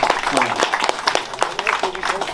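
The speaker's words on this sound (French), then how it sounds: "on applaudit Brigitte également" An audience applauds Brigitte with a steady patter of hand claps, moderately loud throughout, with a voice speaking briefly over it.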